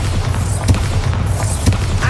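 The Bombarda spell explodes in Hogwarts Legacy, a dense rumbling blast with low booming thuds about a second apart over a continuous noisy game soundscape.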